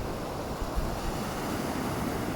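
Sea waves wash onto a beach in a steady, broadband roar with wind buffeting the microphone, continuous and fairly loud with no voices.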